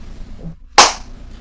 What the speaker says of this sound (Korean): 제가 박수를 쳐볼게요.